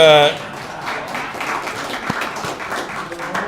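Audience applause at a luncheon, a steady wash of many hands clapping that stays fairly even and moderately loud for a few seconds after a brief voice at the start.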